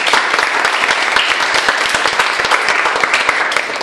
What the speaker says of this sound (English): A round of applause to yourself.